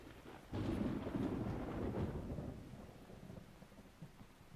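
Rainfall and a rolling thunder rumble in the video game Metal Gear Solid 3, a heavy roar that starts abruptly and then fades into a steady rain hiss, with no speech.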